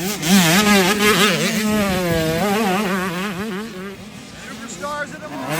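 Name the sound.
motocross bikes racing past at amateur race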